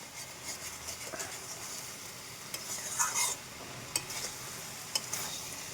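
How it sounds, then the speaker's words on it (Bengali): Mixed vegetables with dried shrimp fry in oil, giving a soft, steady sizzle with occasional clicks and scrapes of a spoon against the pan, close but fairly quiet. "এটা একটু ফ্রাই ফ্রাই মানে হবে তেলেই ভাজা হবে এটা"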